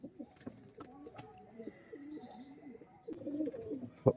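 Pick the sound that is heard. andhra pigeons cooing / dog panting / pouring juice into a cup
andhra pigeons cooing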